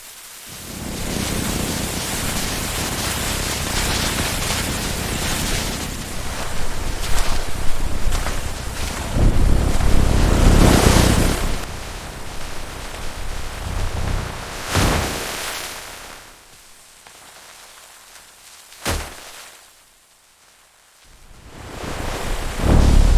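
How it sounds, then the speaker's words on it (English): Violent storm with roaring wind and heavy rain, a loud continuous broadband rush that surges and swells, with sharp cracks near fifteen and nineteen seconds, then drops quieter before the wind builds again. "winds begin to roar, and a violent storm sweeps across the area"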